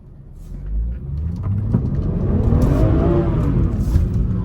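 A 500-horsepower BMW car engine revs hard while the car slides through corners, a loud, rising and falling roar with tire noise that builds and holds close by.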